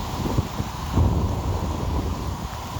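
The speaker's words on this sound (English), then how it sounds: "Thunder clapper, huh?" Low rumbling thunder rolls through steady rain and gusty wind buffeting the microphone of a rider on a Segway electric unicycle, with a deeper swell near the one-second mark.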